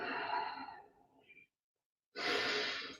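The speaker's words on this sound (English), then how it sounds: "Inhale through your nose and exhale through your nose." Breathing in and out through the nose during a yoga session, a long audible exhale fading out, a silent pause, then a louder breath starting again, close and alone with no talking.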